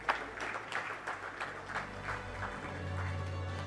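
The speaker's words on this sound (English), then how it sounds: "They deserve a huge, big round of applause" A crowd applauds steadily, many hands clapping together at moderate volume, with a low background hum underneath and no voices standing out.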